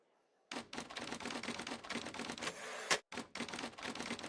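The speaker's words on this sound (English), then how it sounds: "I love that, the fucking sound of it moving back. I love typewriters, man." Typewriter in a video game, clacking in a quick run of close, sharp keystrokes and clunks, with a brief louder slide of the carriage moving back before the clacking resumes.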